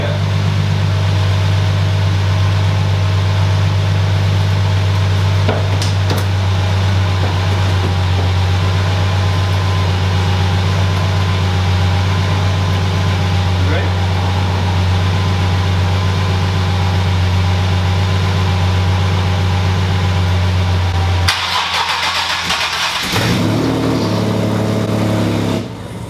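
A car engine idles after a turbo kit install, a steady, loud low hum that holds for over twenty seconds before it cuts off. A brief clatter and shifting noises follow near the end.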